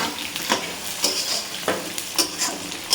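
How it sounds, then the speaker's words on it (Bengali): Potatoes frying in oil in a home kitchen pan, a steady crackling sizzle broken by several louder scraping stirs at intervals, close and fairly loud with no talk. "এই যে আলুগুলো দিয়ে এবার সুন্দর করে ভেজে নেব।"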